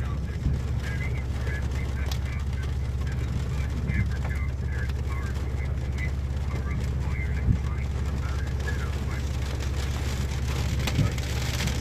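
Big raindrops spatter steadily as a storm rolls in, with a constant low rumble underneath and a few sharper drop hits standing out now and then over the continuous wash of rain.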